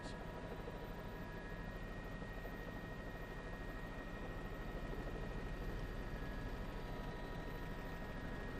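A news helicopter hovers high over the north side near a Chicago CTA Brown Line elevated stop, giving a steady, faint, continuous rotor and engine drone with no talking.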